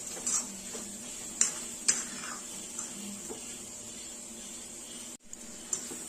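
Dal is stirred with spices in a pan for Savji-style daal kanda. Faint, intermittent scrapes and light clinks of the spatula against the metal pan sit over a low background hiss.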